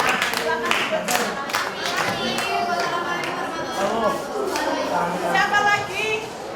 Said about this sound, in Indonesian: kita beri aplaus untuk kelompok pertama